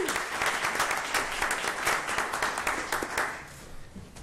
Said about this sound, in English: So let's give our mentors a round of applause as well.